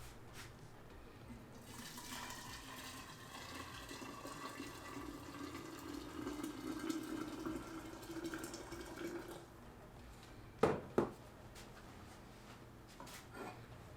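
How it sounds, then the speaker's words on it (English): Boiling water pours steadily into a bowl holding a pickling weight and into a glass jar while preparing fermented mustard greens, a continuous watery rush lasting several seconds, followed by a couple of sharp clinks. "I'm pouring boiling water into a bowl containing the pickling weight"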